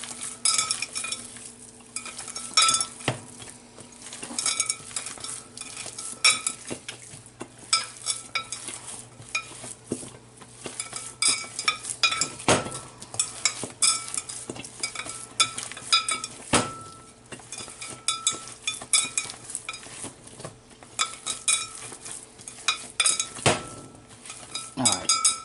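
Meatball mixture with garlic, salt and pepper is worked in a bowl, giving a soft irregular squelching and stirring punctuated by scattered clinks of utensils against dishes, fairly close, with occasional low talk in the background.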